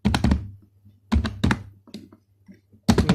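Keys tapped on a computer keyboard while writing code, coming in close, crisp clusters of keystrokes with short pauses between bursts.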